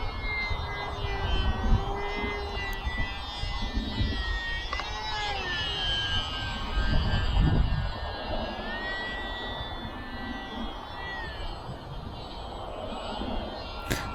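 A Horizon Hobby Champ S+, a small UMX-style RC airplane with a 600–700 mm wingspan, flies outdoors, its electric motor a steady whine that rises and falls with passes. Wind rumble and faint voices run underneath throughout.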